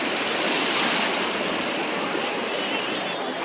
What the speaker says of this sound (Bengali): সমুদ্রের আওয়াজ, আরও সন্ধ্যের সময় আরও বেশি আওয়াজ হবে